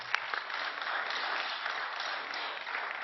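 Sustained applause fills a parliamentary chamber during a trade agreement debate, a dense, steady wash of many hands clapping at even loudness from start to finish with no voices over it.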